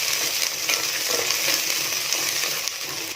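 Shallots, garlic and two green chillies sautéing in a pan, a dense, continuous close sizzle with faint stirring throughout, no voices.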